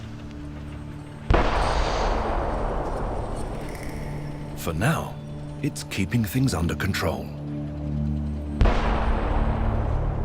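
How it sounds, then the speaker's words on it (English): Firecrackers set off to scare eagles away crack in a quick cluster of sharp bangs amid a noisy outdoor wash, with someone narrating over the scene. "These firecrackers are designed to scare the eagles away and keep them safe from harm."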